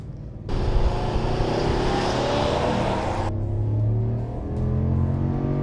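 A Ram 1500 pickup's 5.7L HEMI V8 roars steadily at full throttle while towing 8,000 lbs, a loud continuous drone with rising tone as it accelerates, no voices.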